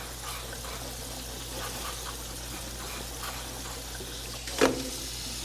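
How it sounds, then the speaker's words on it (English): Cold tap water running over freshly cooked pasta in a 1950s colander, a steady broadband gush and splash that stays even throughout, with a brief clatter near the end. "We'll rinse it with cold water."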